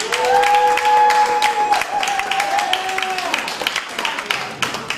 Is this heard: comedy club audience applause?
yes